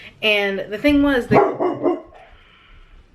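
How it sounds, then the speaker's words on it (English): A dog barks a few times close by, sharp and loud, overlapping someone talking, then fades to quiet. "that's my dog."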